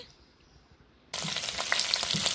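Finely chopped ginger, about two inches' worth, hits a hot oiled pan and bursts into a loud, steady sizzle, with faint stirring scrapes as it is mixed, after a quiet moment of low background.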